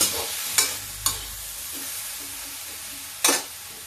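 Sweet homemade tomato chutney seasoned with dry mango powder and black pepper is stirred in a pan, giving a few quiet, scattered spoon scrapes with soft hiss between them.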